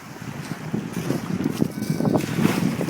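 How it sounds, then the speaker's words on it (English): Gusty wind buffets the microphone on the Mississippi River during an evening fishing outing, a rough, fluttering roar that builds louder over the few seconds with no one speaking. "It's windy."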